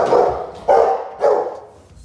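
Three loud, deep barks from a Rottweiler, close by and evenly spaced, each a full-throated burst with short gaps between.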